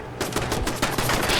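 Rapid automatic turret gunfire in the video game Fallout 4, a loud close burst of repeated shots firing in quick succession with no talking.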